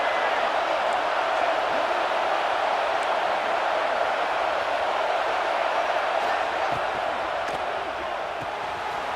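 Constant roar of a football stadium crowd at a South Carolina versus Alabama college game during a red zone defensive stand, a dense wall of noise that holds steady throughout.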